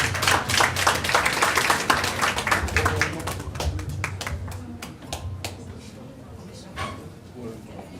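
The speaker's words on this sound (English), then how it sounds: "Please give her a big round of applause." Applause at a veterans banquet after a plaque presentation: a moderate room full of clapping hands, steady at first and slowly tapering off, with some voices mixed in.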